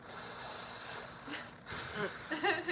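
A voice imitates heavy breathing close to the microphone, with two long raspy, hissing breaths followed by shorter, choppier puffs, all fairly faint.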